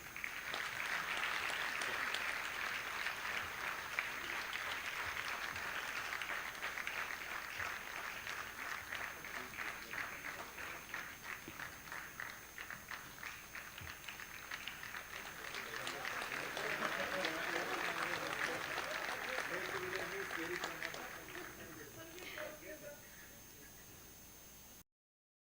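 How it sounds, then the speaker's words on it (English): An audience applauds at an award ceremony during a Commercial Taxes Day celebration in Chennai, with steady crowd clapping heard from a distance and under a faint hiss, lasting about twenty seconds before fading. "Let's have a big round of applause."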